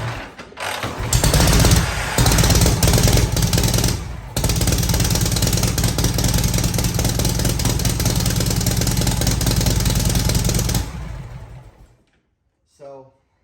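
A Harley Knucklehead motorcycle engine, kick-started with the choke closed and running rich, roars loudly up close with a lumpy, pulsing idle and some throttle blips, then cuts off, leaving near silence and a brief burst of voice.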